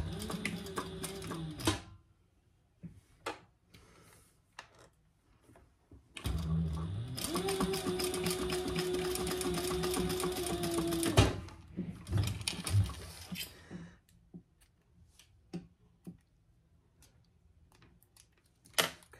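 Sewing machine stitching a seam on a tote bag with a shortened stitch length, running in two fast mechanical bursts with a steady whirring drone, the longer one lasting several seconds, with quiet handling clicks between.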